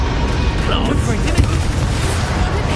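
A Confringo blasting spell going off in Hogwarts Legacy, a dense, rumbling explosive blast with a sharper peak in the middle, loud and continuous amid game effects and voice.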